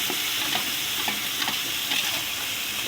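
Fish fries in a wok with a steady, close, hissing sizzle, while a utensil stirs and scrapes at a roughly regular pace throughout; nobody speaks.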